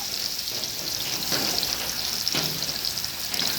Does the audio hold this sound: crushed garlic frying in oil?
yes